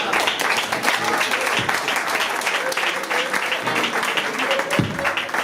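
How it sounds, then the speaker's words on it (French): Audience applause at a charity festivity, continuous lively clapping from a crowd, close and fairly loud with a few sharper individual claps standing out. "on l'applaudit"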